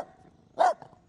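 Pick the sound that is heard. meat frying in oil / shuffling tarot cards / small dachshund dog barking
small dachshund dog barking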